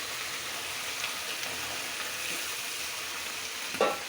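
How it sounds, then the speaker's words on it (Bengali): Vegetables and spices sauté in a pan with a steady, close crackling sizzle, even in level, with a brief knock of utensil against the pan near the end and no talk. "সবজিটা হচ্ছে এবং মশলাটা কষানো হচ্ছে"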